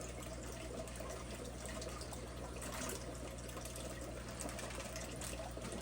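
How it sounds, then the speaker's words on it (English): Water steadily pouring and splashing as live fish are dumped out into a net, a faint continuous gushing with no voices. "We just dump out the fish into the net."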